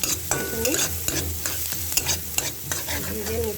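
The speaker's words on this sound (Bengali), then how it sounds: "ভেজে নিচ্ছি" Vegetables lightly frying in a pan over a low gas flame for soup, a steady close sizzle broken by repeated scrapes and stirs of a utensil against the pan.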